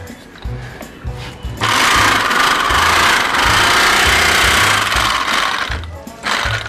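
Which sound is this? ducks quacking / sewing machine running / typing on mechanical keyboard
sewing machine running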